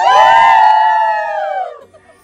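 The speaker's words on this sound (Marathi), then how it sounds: "2, 3 ओरडा" A group of people at a birthday photoshoot in Lonavala let out one loud, sustained shout together on cue, holding it for well over a second before it fades out.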